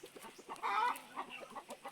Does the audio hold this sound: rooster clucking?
yes